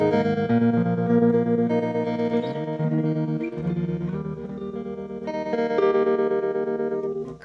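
An electric guitar plays sustained chords and single notes through a Fender amp's vibrato effect with reverb, giving a pulsing, wavering tone that rings loud and full without pause.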